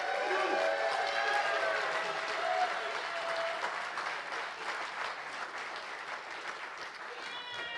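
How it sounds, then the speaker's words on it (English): Audience applause fills a theatre at a youth film screening, a steady dense wash of clapping throughout with a few faint whistles and cheers mixed in. "Let's give up some applause for Mavelin."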